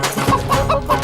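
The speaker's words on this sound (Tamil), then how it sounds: "அம்மா, கோழி பறந்துருச்சுமா." A loose chicken clucking in quick, agitated bursts, close and loud, with a few rising squawks in a short run of calls.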